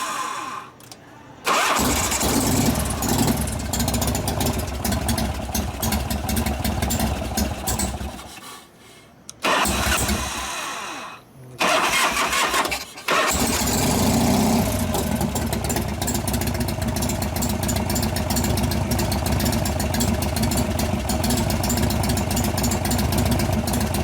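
A 1988 Harley-Davidson FXR motorcycle engine cranks and catches, stalls and restarts a couple of times, then settles into a loud, close, steady idle.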